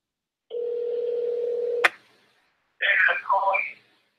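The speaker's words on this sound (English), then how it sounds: "David, I'm calling you." A phone call begins with a steady dial tone lasting over a second. After a pause comes a brief burst of warbling call tones, all heard clearly without talk.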